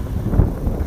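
A headwind buffets the microphone of a cyclist riding a bike on a long trip, a loud, low rumbling roar that swells and gusts unevenly for about a second.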